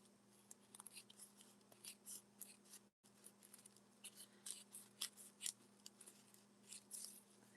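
Scissors snipping through paper during a craft session, a quiet irregular series of crisp cuts over a faint steady hum, with one brief dropout partway through.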